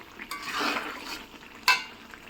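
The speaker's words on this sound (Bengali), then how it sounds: "পুরোপুরি সিদ্ধ হয়ে আসা পর্যন্ত এটাকে নেড়ে চেড়ে আস্তে আস্তে করে রান্না করতে থাকবো" Garlic cooking slowly in a pan for garlic pickle while being stirred, giving soft scraping and stirring sounds with a faint sizzle and one sharp utensil knock near the end.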